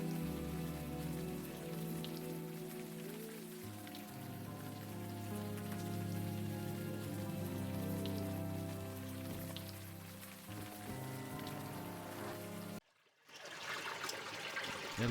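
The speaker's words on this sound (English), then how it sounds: "At least the rain is washing away most of the smell." Steady rain patters and trickles across surfaces in the Unavowed video game, a continuous wash under a low music bed, briefly cutting out near the end before returning.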